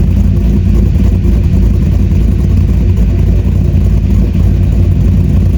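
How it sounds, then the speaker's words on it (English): A C5 Corvette V8 with a BTR Stage 3 cam, long tube headers, high flow cats and an X-pipe revs loudly, its deep rumbling exhaust filling the clip continuously at close range without talk. "I noticed a significant difference in the tone and loudness of this exhaust for sure."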